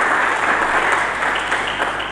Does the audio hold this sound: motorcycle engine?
no